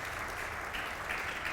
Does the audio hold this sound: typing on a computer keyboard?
no